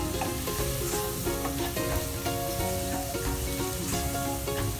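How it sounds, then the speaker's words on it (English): Curry leaves, coriander leaves and green chilies sautéing in hot oil, a dense, constant crackling sizzle up close with faint stirring, under soft background music. "Now let's add the curry leaves, coriander leaves, and green chilies. Now let's saute them up."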